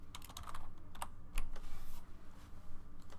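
Quiet, rapid clicking of keys on a computer keyboard, irregular keystrokes in quick bursts over a low background hum.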